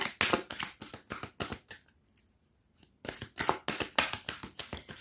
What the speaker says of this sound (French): je vais prendre mon tarot, je vais prendre une carte à chaque fois